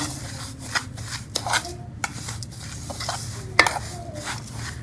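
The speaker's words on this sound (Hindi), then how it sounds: "हम इनको मिक्स कर लेंगे सारी चीज़ों को" Dry pakora spice ingredients, including carom seeds and salt, are stirred and mixed in a bowl, giving soft scraping and rubbing with several sharper clinks of a spoon against the container, close and fairly quiet.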